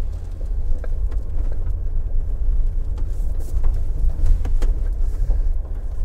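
A Mercedes-Benz G-Class engine drones steadily at low pitch under throttle while driving off-road over rock, a continuous rumble with faint knocks and scrapes.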